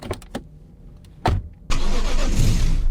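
A car engine cranks and catches in a horror video game, a few short clicks and a brief starter whir giving way to a loud, steady running rumble, with no voices.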